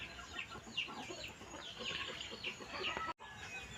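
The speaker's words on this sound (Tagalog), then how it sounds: "Yun, pinagtukaan ng manok." Chickens cluck in short, scattered calls at moderate distance, with faint scratching and tapping beneath, ending in a brief cut of silence.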